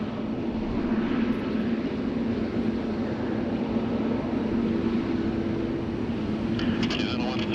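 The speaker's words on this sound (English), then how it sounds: "777-200 LR." Air Canada Boeing 777-200LR jet airliner at Sydney Airport in heavy rain, a steady low engine roar blended with rain hiss, continuous and fairly distant, with a faint voice talking over it.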